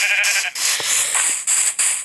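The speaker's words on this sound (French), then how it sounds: "Oh, on a du mouton." Sheep in the Minecraft video game bleat in a short series of loud, close, nasal cries separated by brief gaps, with no talking.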